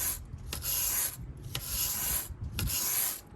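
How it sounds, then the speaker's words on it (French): A stiff wire brush scrapes weeds from between paving stones outdoors, three rasping strokes in a steady back-and-forth rhythm, close and fairly loud with brief pauses between them. "je gratte un peu et puis ça les enlève"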